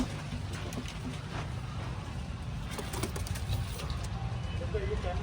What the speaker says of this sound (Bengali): এই যে তোমাদেরকে ছেড়ে দেখাচ্ছে এখন পায়রাটা